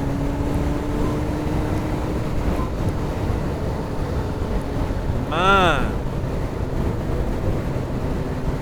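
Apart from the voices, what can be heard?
motorcycle engine revving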